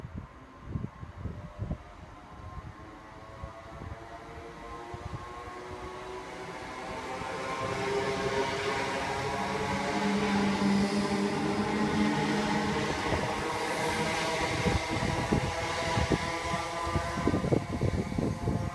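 A Class 321 electric train pulls away from Southend Victoria station nearby, its motor whine and rumble building gradually from quiet to a steady louder drone with rising tones.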